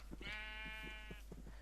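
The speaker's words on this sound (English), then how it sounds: "I would like to get a couple of sheep," A sheep in the Minecraft video game gives a single clear, wavering bleat lasting about a second, close up over a low steady hum and faint soft thumps.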